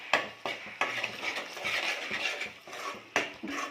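A spoonful of freshly pounded ginger-garlic paste fries in oil in a pan while being stirred. Sharp metallic clinks and scrapes of the spoon against the pan sit over a soft sizzle.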